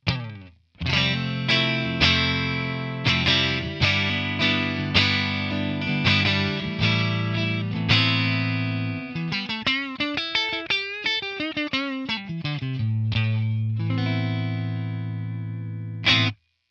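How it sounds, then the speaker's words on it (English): Electric guitar played through a captured 1963 Fender Vibroverb amp with a clean, scooped cabinet tone and no reverb: a sustained run of chords and melodic bends, steady and close, with no talking. "I'm gonna play this capture, the clean scooped cab without the reverb, and then I'm gonna add the reverb"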